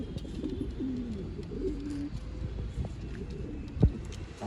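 Old line pigeons in a loft in Bangalore coo softly and steadily in low, rolling calls, with a single sharp tap near the end and no talking.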